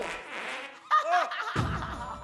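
Fart sound effect in a comedy film, a short buzzy burst heard in the middle of the soundtrack, followed by a muffled rumbling noise.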